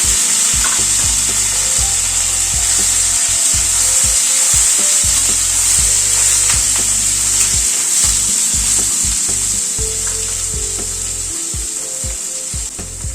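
Papaya and drumstick pieces fry in a pan of oil tempered with asafoetida, fenugreek, mustard seed and curry leaves for a pigeon pea dal, giving a steady loud sizzle with scraping stirs throughout and no talking.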